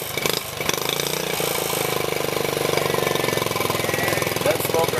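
An old motorcycle known as the Slippy idles steadily and close by, its dense, even engine rumble running the whole time while people talk over it.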